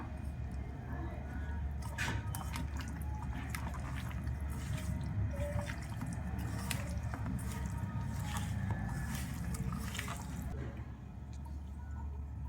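Chicken pieces being mixed by hand with a raw egg and two spoons of chilli powder for fried rice, a steady wet squishing and squelching that runs close and continuous throughout.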